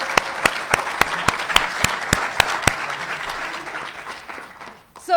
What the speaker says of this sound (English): Another one more round of applause.